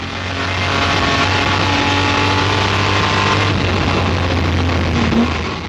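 A Jaguar D-Type race car on a circuit, its engine droning loud and steady at close range as the driver powers on and lifts off, with no talk over it.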